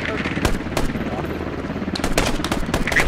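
Rapid automatic gunfire in the Squad video game during a helicopter fight, bursts of shots crackling over a dense battle din with players shouting excitedly throughout.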